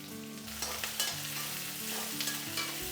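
Onions frying in oil with mustard seeds and curry leaves for a raw mango pachadi, a steady close sizzle with repeated stirring scrapes and clinks, no talking.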